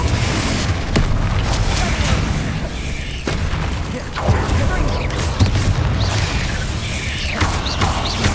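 Spell blasts and booming impacts from the video game Hogwarts Legacy, dense and continuous combat noise with several sharp thuds and crashes over a rumbling game soundtrack.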